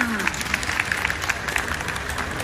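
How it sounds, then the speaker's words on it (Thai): Audience applause at a Mother's Day 2022 school performance, a fairly soft, steady patter of many hands clapping from a short distance, with no single claps standing out. "สียงปรบมือด้วยค่ะ"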